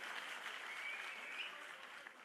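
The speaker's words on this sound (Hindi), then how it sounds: "ताली बजा दो सब लोग एक बार इनके लिए" Sustained applause from a crowd at an outdoor gathering where Kejriwal meets auto-rickshaw drivers, steady dense clapping heard fairly distant and fairly quiet for a couple of seconds.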